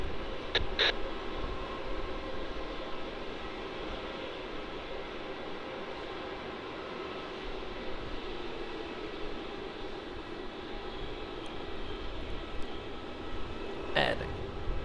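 Boeing 737-800 landing on runway 16 at Melbourne Airport, a broad steady jet roar from a distance, with a voice talking over it and a couple of brief clicks.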